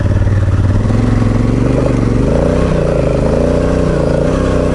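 An Africa Twin motorcycle churns along a dirt trail, its engine roaring loud and close with a steady, throbbing drone that dips and rises in pitch as the rear wheel spins.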